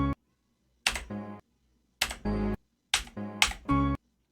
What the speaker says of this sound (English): I'm just tapping my keyboard so that you can hear my keyboard's sound